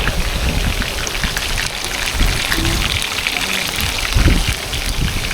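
Steady rain patters and splashes on surfaces nearby, a loud continuous hiss with heavier drops now and then.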